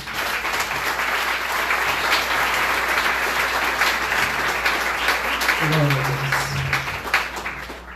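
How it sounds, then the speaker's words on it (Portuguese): A church congregation applauds during a worship service, with dense, steady clapping that fills the full eight seconds at a fairly loud level, and a voice briefly rises over it near the end. "Receba o servo de Deus, aplaudindo a Jesus"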